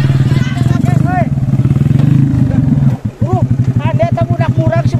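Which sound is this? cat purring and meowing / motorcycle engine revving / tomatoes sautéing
motorcycle engine revving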